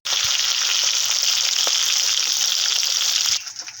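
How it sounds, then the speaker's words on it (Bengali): Silver carp fish fry crisp in a hot pan, giving a loud, continuous sizzling hiss that holds steady, then drops off sharply near the end. "এই মাছটা একটু কড়া করে ভাজবো"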